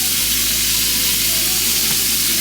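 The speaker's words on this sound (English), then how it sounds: "go ahead and keep stirring off your noodles" Noodles sizzle loudly in a hot skillet with a constant close hiss and faint stirring movement underneath, steady for the whole stretch.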